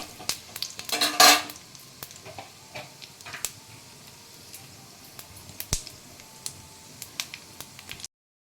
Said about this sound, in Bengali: ফোড়নটা ভাজা ভাজা হয়ে যাচ্ছে।